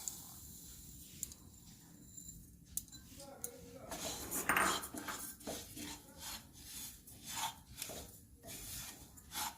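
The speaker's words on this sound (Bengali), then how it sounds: "এখন ডালিয়াগুলোকে ভেজে নিতে হবে হালকাভাবে।" Broken wheat dalia being lightly dry-fried and stirred in a hot kadai makes soft, repeated scraping and rasping strokes against the metal, with a few clinks. The sound is faint and close, in irregular bursts.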